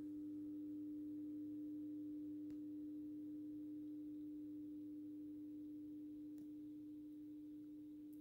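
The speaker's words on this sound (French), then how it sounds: "le ballast fait de moins en moins de bruit" A Mazda Coccinelle-B BF 125W mercury-vapour street lamp ballast on 230 V hums steadily while the lamp warms up, a low constant drone with a faint electrical buzz that eases slightly over time, heard alone at close range.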